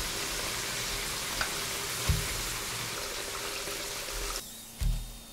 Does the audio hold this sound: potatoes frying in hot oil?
yes